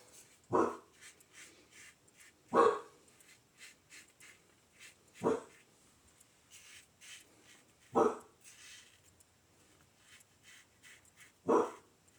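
A dog barks five times, single loud barks spaced a couple of seconds apart, with soft panting and small noises in between.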